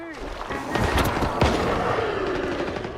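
Gunfire in the video game STALKER 2 comes as several sharp, booming shots in a short cluster, with one heavy blast standing out near the middle over a dense, noisy backdrop.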